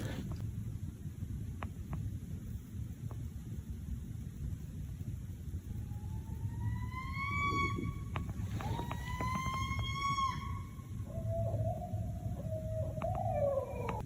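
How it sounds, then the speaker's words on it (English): A porcupine calls in a forest at night, giving several rising and wavering whining cries with harmonics. They sound distant and faint over a steady low rumble of background noise. "Pretty sure that's a porcupine."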